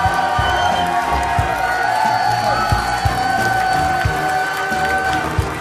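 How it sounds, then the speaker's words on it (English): Audience at a Clash Royale tournament applauding and cheering the champion, a dense, steady crowd roar with scattered claps and whoops filling the whole stretch, fairly loud and continuous. "can I get a round of applause for your champion?"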